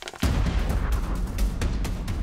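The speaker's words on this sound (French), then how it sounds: "C'est l'explosion." A deep, sustained explosive roar of the 1902 Mount Pelée volcanic eruption, bursting in suddenly after a brief quiet and rumbling loudly with repeated booming pulses throughout.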